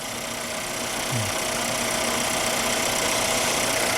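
A small 1.3-litre four-wheel-drive imported car engine idles steadily with a low, even hum and faint vibration, continuous and unchanging throughout.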